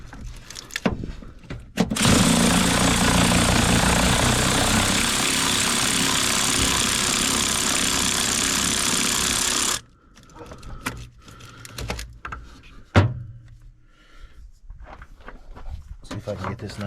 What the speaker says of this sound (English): My snap-on 3/8 drive cordless ratchet, 3" long extension, 13mm socket.